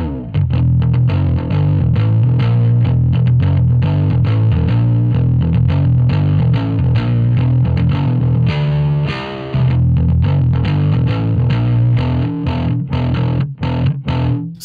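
Bass guitar picked through a Two Notes Genome with high-gain distortion plays a steady, driving riff of thick, fuzzy notes up close, sustained for several bars with brief gaps.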